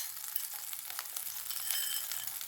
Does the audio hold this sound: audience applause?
no